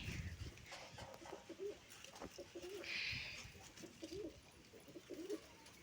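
A pet pigeon coos in soft, repeated low phrases close by, the rolling calls recurring through the quiet space alongside faint rustling.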